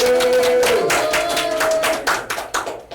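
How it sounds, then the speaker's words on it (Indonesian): Students in a classroom clap for a group that has just finished presenting, a quick burst of hands that fades into scattered individual claps during the final second. "tepuk tangan dulu bukan kelompok satu"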